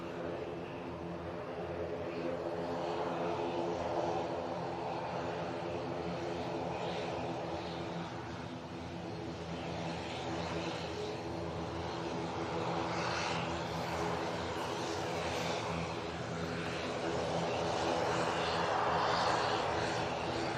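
An ATR 72 turboprop departing Manchester Airport for Dublin hums with a steady propeller drone and layered engine tones, continuous and moderately distant, swelling slightly near the end.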